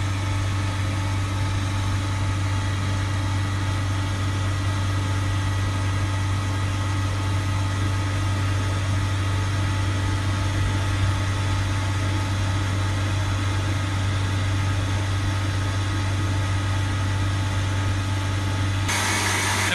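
A car engine with a diesel particulate filter fault idles steadily with a low, constant hum and vibration, unchanging for the whole stretch.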